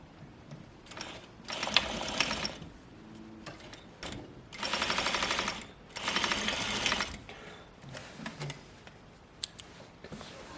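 Sewing machine stitching a skirt seam: several short, rapid whirring bursts of stitching separated by quieter pauses with faint mechanical ticks, close and without talk.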